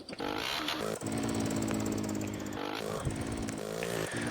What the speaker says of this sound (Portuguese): Vou buscar minha moto.